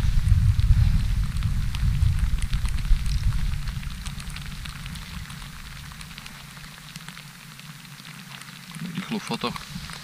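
Rain falls on a kayak on a lake while fishing for zander, with a steady dense patter that is loud at first, then softer, and a brief clatter near the end.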